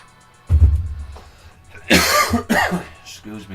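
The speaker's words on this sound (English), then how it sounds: "I know I keep coughing and I know it might be loud for you." A single low, muffled cough up close, followed by a brief burst of speech and another short vocal sound.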